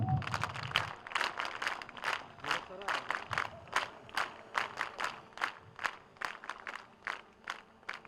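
A crowd at an Arya Veer Dal exercise and valour display ceremony claps in a fast, steady rhythm of distinct loud claps, with shouting voices in the background.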